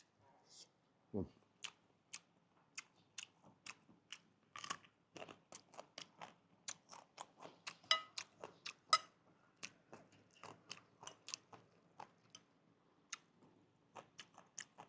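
People chew and bite into food at a meal of Thai curries with snails, sour fish curry and stir-fried pork belly, giving close, crisp crunches and clicks in an irregular run, with faint voices in the background.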